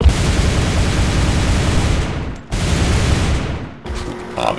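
Continuous full-auto gunfire from a shooter video game, fired while the player moves with an M4 or Para, loud and dense bursts with two brief pauses, the last stretch thinner with faint echoing tails.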